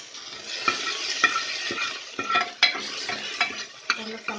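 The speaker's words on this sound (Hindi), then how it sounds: "और इसे फ्राई कर लेंगे।" Tomatoes frying in separating oil for a Bihari-style ol (yam) sabji, a continuous bright sizzle with repeated clacks and scrapes of a spoon stirring the pan, close and fairly loud.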